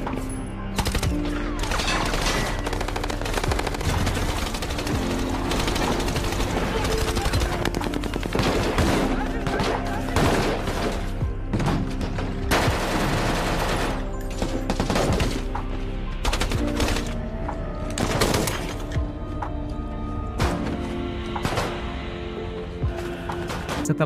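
Sustained firefight between a SWAT team and ISIS fighters in the film Mosul, with bursts of automatic gunfire and scattered single shots, loud and echoing, continuing without pause.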